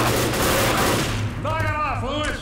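Gunfire in the video game Left 4 Dead crackles in a dense burst of rapid shots, followed by a short voice over the game sound.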